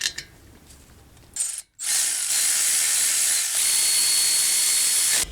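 Slide pin bolts being threaded back into a front brake caliper on a 2011 Honda Pilot, with a brief clatter followed by a loud, steady ratcheting buzz close by.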